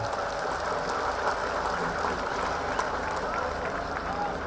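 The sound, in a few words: crowd applause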